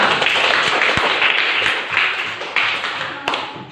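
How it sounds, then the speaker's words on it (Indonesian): A class of schoolchildren claps together during a lesson, close and fairly loud, a brisk burst of applause that slowly thins and fades with a few sharp individual claps near the end. "tepuk tangan untuk kita semuanya"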